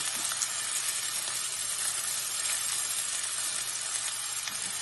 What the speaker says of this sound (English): added onion, ginger and green chili. Give it a stir.